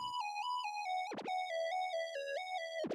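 Simple square-wave lead synth with a vintage Juno-style chorus, playing a stepped pattern of sustained notes that repeats every two bars, loud and alone with a brief noisy burst between phrases.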